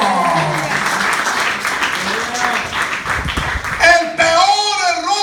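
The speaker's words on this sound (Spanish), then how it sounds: "Denle un aplauso a Cristo." Church congregation breaking into applause, dense clapping that swells and carries on with voices and cheers mixed in, then a voice rises as the clapping fades.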